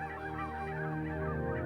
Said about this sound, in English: Ducks, geese, and swans, more than 50 species in all, are on the move.